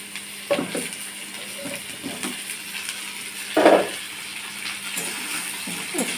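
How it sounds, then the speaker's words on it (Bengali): Pumpkin pieces added to a pan with fried onion and black cumin crackle and sizzle, with soft stirring scrapes and a brief louder clatter partway through, close and steady with no talking. "এখন মিষ্টি কুমড়োগুলো দিয়ে দেবো।"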